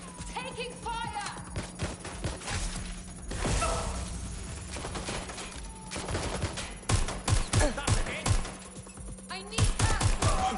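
Bursts of automatic gunfire in a Watch Dogs Legion firefight, sharp rapid cracks coming in clusters, loudest near the end, with shouting voices over it.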